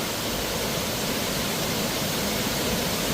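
Marf waterfall swollen after heavy rain pours down in a loud, dense, unbroken roar of rushing water, close and continuous with no voices.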